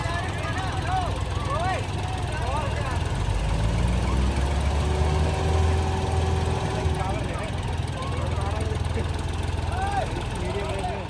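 A farm tractor's engine runs with a steady, throbbing mid-pitched drone at close range, while people talk over the top of it.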